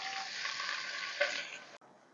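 Chopped onions hitting hot oil with popped mustard seeds for a crab gravy, a steady hissing sizzle with a brief louder crackle near the middle before the frying abruptly cuts out and leaves faint hiss.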